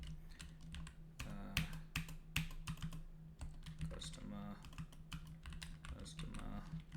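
Rapid, uneven typing on a computer keyboard, keys clattering close up in bursts with brief pauses, while someone talks intermittently over it.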